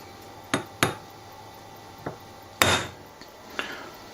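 Hammer striking a dot punch held on a metal regulator for a BSA Hornet air rifle reservoir, a few sharp separate taps spread unevenly across a few seconds, close by with no talk.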